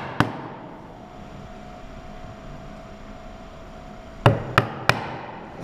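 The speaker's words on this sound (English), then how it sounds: "As you can see, the material is being pushed back as the chisel moves forward." A wooden mallet strikes a chisel chopping a mortise in wood: one sharp knock at the start, a quiet stretch, then three crisp, evenly spaced blows close by.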